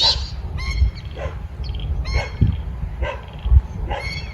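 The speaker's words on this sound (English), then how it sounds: "The plovers are calling out to each other all the time." Plovers calling back and forth among nesting birds, a series of sharp, loud, repeated cries spaced about a second apart, close by against faint outdoor background noise.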